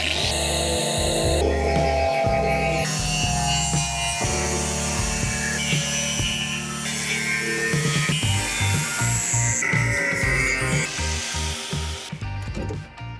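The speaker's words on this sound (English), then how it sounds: "cutting the old sill off" Old rusty sill being cut off a Ford Transit camper van with a power tool: a loud, continuous metallic whine and grinding that changes pitch as the blade bites, with rattling and scraping throughout.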